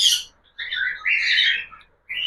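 Chirping of a pet budgerigar, a series of bright twittering calls in close bursts with short gaps between them, loud and near, with no voices.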